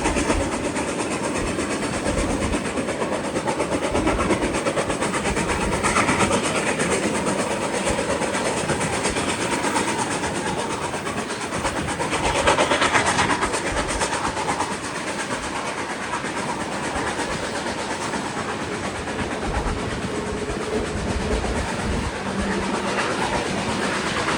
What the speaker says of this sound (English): You can really hear that exhaust.